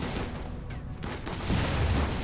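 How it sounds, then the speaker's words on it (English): Rimworld gunfire crackles as a dense, continuous burst of shots and booms over about two seconds, loud and close, with no voices over it. "Bit of friendly fire going off"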